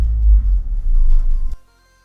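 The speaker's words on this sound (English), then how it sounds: "There is quite literally a steamroller outside my window." A steamroller works outside a window near builders, heard as a loud, deep rumbling throb with a few rattles. It continues for about a second and a half, then stops abruptly, leaving near silence.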